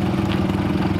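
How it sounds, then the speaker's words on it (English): A 4x4 idles in first low gear while off-roading in the Watagans forest, giving a steady, close, low throbbing rumble with an even pulse throughout, with no talking. "I'm in first low anyway, it's just idling."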